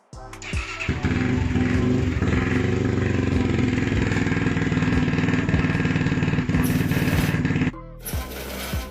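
A retro scrambler motorcycle's engine fires up and revs loudly and steadily for several seconds, then cuts off abruptly, with a brief mechanical clatter afterward.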